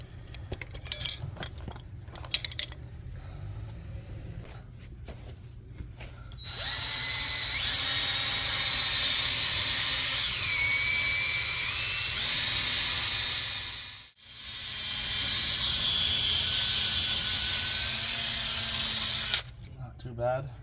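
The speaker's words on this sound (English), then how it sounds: "I'm gonna hit it with the wire brush" A power wire brush scrubs rust off the front brake parts of a 2017 Mercedes GLC 300, giving a loud, steady, high whirring grind that runs for about thirteen seconds with one brief dip, after a few clanks and some talk at the start.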